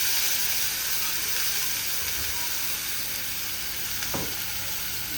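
A prepared spice paste fries in a pan with a dense, even sizzle and hiss, close and steady throughout, broken once by a brief stirring scrape, with no voices.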